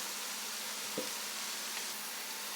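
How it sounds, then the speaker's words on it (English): Garlic sautéing in a pan on the stove, a faint steady sizzle with one brief stir or scrape partway through, no talking. "But garlic can burn very quickly, so you don't want to be cooking it too high and you don't want to cook it too long."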